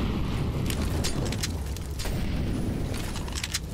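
Grenade in a Counter-Strike match goes off amid steady background rumble, a low booming blast with scattered sharp gunfire crackling over it.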